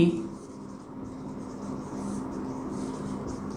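Marker or chalk scratches steadily across a board during a physics lecture on light, a soft continuous scraping close by with faint background hum.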